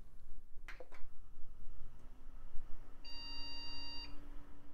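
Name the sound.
computer slow beeping RAM error code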